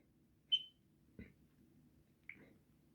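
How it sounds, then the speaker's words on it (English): A faulty smoke detector in a rented home gives short, faint, high chirps, three spaced beeps with quiet pauses between them in an otherwise still room. "And Google Translate can't translate the beeps. It's a bad smoke detector, needs to be replaced."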